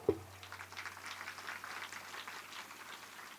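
An audience claps together at a spiritual gathering, a steady patter of hands lasting a few seconds after a brief sharp knock at the start, moderately distant and not loud.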